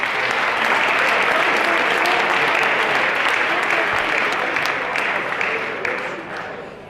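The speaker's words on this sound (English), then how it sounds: "Give them all a round of applause." Sustained applause from a crowd at a high school varsity and JV football banquet, dense steady clapping throughout that tapers off slightly near the end, with no voices over it.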